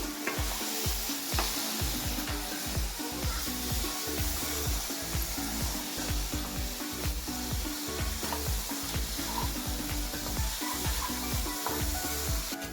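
Finely chopped green chili is stirred into a hot coconut mixture in a pan for a sweet coconut vadi. A spoon scrapes in a steady rhythm over constant loud sizzling, close by, with no talking.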